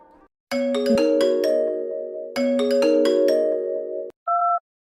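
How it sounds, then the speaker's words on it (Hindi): A loud electronic ringtone plays a bright repeating melody twice, followed by a short two-tone beep. "तभी उसका फोन बजता है"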